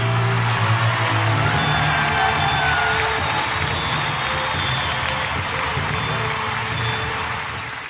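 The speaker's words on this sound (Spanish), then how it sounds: "Recibamos con un fuerte aplauso" Loud sustained applause from a crowd with scattered cheers, steady throughout and tapering slightly at the end.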